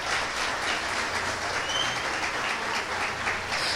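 A church congregation applauds Jesus in a steady, dense wash of clapping that fills the room, continuous and fairly loud throughout with no talk over it.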